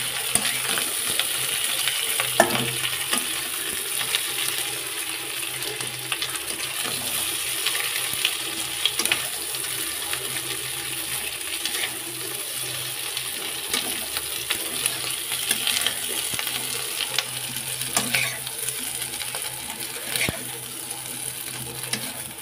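Browned potatoes frying in oil in a pan, a continuous soft sizzle broken by frequent clicking and scraping stirring sounds, close and fairly quiet.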